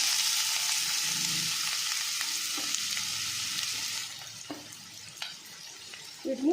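Three thinly sliced large onions and two green chillies sizzle steadily in hot oil, a loud broadband hiss that fades after a few seconds, with a few soft stirring clicks and faint kitchen sounds near the end.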